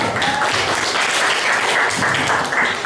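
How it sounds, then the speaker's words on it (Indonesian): Audience applause at a school student activity session, a short, loud, dense burst of clapping from a crowd of students. "Tepuk tangan dulu untuk Mira."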